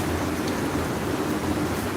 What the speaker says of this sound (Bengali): প্রচুর পরিমাণ বৃষ্টি আসতেছে থেমে থেমে এবং এই কমে আবার বাড়ে